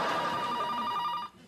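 A telephone rings indoors in a sitcom family home: a steady, bright electronic ring that lasts about a second and a quarter and then cuts off, with no voices over it.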